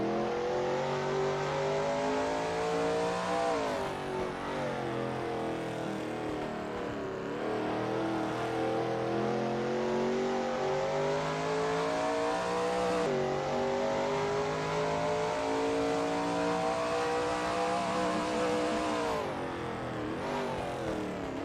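A Shelby Mustang GT350R races around Zandvoort in a racing video game, its engine revving loud and steady through repeated upshifts and rising pitch sweeps, with continuous close engine roar and no talking.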